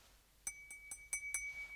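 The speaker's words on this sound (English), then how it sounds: "lovely champagne glasses." Glass champagne flutes from the champagne fridge in a 2025 Rolls Royce Ghost Series II clink together, about five bright ringing taps in quick succession, fairly faint with a lingering tone.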